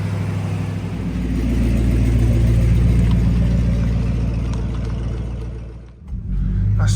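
An old Chevrolet Impala with a freshly tuned carburetor driving at night, its engine giving a loud, steady low rumble that swells and eases, dips sharply near the end, then picks back up.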